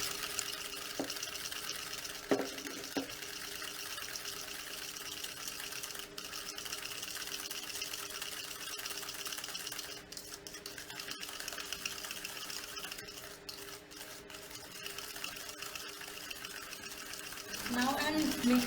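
Electric hand mixer creaming eggless vanilla sponge cake batter, a steady whirring hum running continuously throughout with a few brief clinks near the start and a louder burst at the end.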